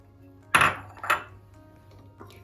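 A spoon stirring meatball stew with parsley in a pot, two sharp metallic clanks close together against the pot, then a faint softer knock, close up and without talk.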